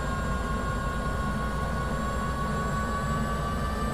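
A helicopter engine in Microsoft Flight Simulator 2024 spools up as the throttle is slowly advanced, a steady dense turbine roar with sustained whining tones, loud and constant.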